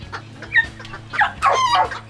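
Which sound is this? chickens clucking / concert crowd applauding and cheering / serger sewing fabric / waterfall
chickens clucking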